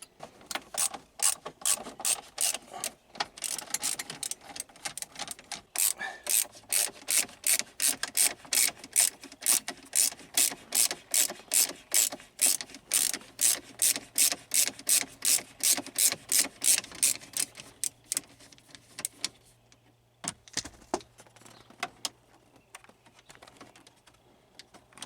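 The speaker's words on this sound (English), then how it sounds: "pull on the handle to try to get the bezel off" A car dashboard bezel being pulled loose by its handle gives a long run of sharp, rapid plastic clicks and ratcheting snaps, close and fairly even, slowing into scattered clicks near the end.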